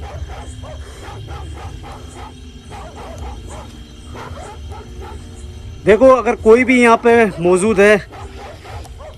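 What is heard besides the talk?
dogs barking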